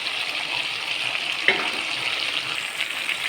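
Nut paste poured into chicken frying in a pan, a steady close sizzle with a brief soft splat midway as the paste lands.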